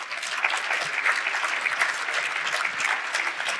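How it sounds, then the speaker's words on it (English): An audience at a real estate summit breaks into steady, dense applause filling the room at moderate volume, with no voices standing out above the clapping. "give yourselves a round of applause"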